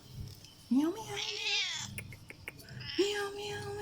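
A stray black cat meows loudly at close range, giving two drawn-out rising cries roughly two seconds apart, with quieter rustling between them.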